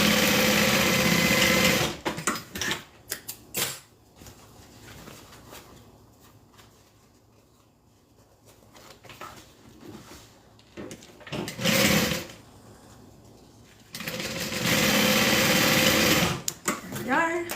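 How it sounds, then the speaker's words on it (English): A sewing machine stitches the bottom seam of a quilted bag in several loud runs of steady whirring, broken by quieter pauses with handling sounds and occasional talk. "now we're gonna go ahead and sew the bottom"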